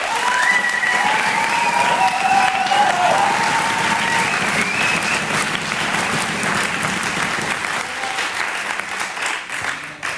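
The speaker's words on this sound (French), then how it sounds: "je veux que vous fassiez à nouveau un tonnerre d'applaudissements pour les deux candidats" A large audience claps loudly and steadily, with a few whistles and cheers early on, then the applause slowly tapers.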